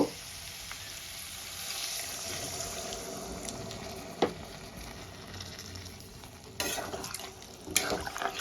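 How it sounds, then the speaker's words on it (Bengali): Water poured into a pan of cauliflower, potato, pea and paneer curry sets off a steady loud sizzle and bubbling, with a few sharp clinks and splashes of liquid and utensil toward the end. "এবার আমি পরিমাণ মতো জল দিয়ে দেব।"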